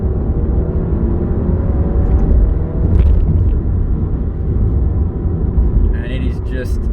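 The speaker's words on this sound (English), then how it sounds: "the engine, with everything closed, you can hear the engine in here" Alfa Romeo Giulia Veloce, 2022, in dynamic drive mode, heard from inside the closed cabin as a low, steady engine rumble and road drone, with a brief brighter rise near the end.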